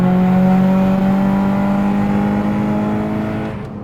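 A modified-exhaust Honda Civic EP3 Type R heard from inside the car, a loud sustained engine drone with a steady hum that slowly fades as the car lifts off into overrun.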